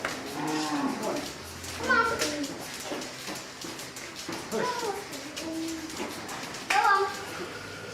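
Cows on a diverse organic farm moo repeatedly, several long calls rising and falling over a few seconds, with a narrator talking over them.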